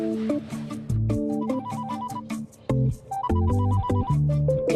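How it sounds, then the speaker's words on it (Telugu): A telephone ringtone plays a looping electronic melody of bright repeated notes, near and steady, with no talking. "సర్లే గాని ఆ ఫోన్ చూడు."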